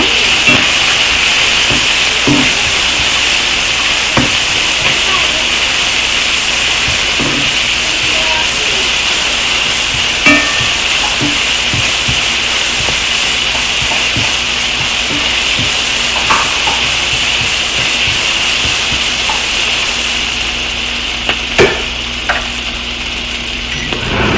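Ivy gourd and chickpeas with salt frying in a pan, a loud continuous hissing sizzle close up with scattered soft stirring taps, steady for the whole stretch with no talk.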